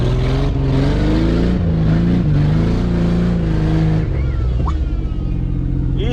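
Ford Bronco II engine revving while reversing up a snowy hill, a loud, close, steady engine drone rising and falling in pitch before easing off near the end.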